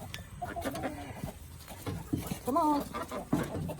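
Close clucking and squawks from chickens at a farmyard coop mix with a person calling out to them, the bird calls scattered and uneven under and between the voice, with a goat nearby.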